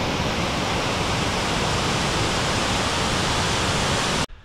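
A big waterfall in the Smoky Mountains pours with a loud, dense, constant roar that fills the clip before cutting off abruptly at the end.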